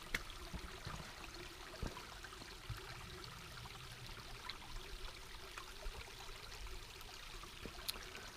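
A small babbling brook flows outdoors as a faint, steady watery rush with soft trickling detail throughout and no voices.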